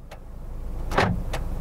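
An Opel Corsa E door slams shut once, a sharp mid-clip thud followed by a fainter knock, close by against a low idling hum.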